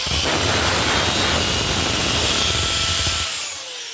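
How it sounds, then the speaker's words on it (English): Angle grinder held against tool steel for a spark test: a loud, harsh high-pitched grinding whine with rough low rumble, running steadily and tapering off at the end, no talk. "angle grinder, that's the spark test, and that'll tell you also."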